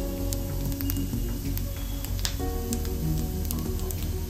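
Cumin seeds frying in hot oil over a low flame, giving a steady, close sizzle and crackle that holds throughout with a faint low hum underneath.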